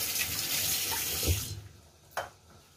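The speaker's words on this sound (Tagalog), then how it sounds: "linagay na natin ang ating tubig" Water pours in a steady rushing stream into a pot while cooking ginataan tugi, then stops abruptly, followed by a single small clank.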